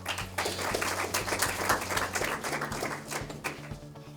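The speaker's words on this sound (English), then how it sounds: "Please give her a round of applause." Scattered applause from a modest audience at a stock exchange opening bell ceremony, individual claps audible in an uneven patter that stays fairly light and thins toward the end.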